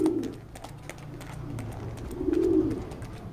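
Checker racing pigeons coo in a loft, low soft throaty coos rising and falling close by, one longer swelling coo near the end, with no talk.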